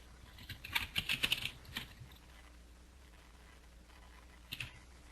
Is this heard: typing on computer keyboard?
yes